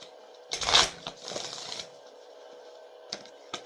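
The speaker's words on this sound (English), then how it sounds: "Let me shuffle these right quick." A deck of playing cards being shuffled: a brisk riffle burst near the start, a softer second pass of shuffling, then a few light card snaps later, close and alone without talk.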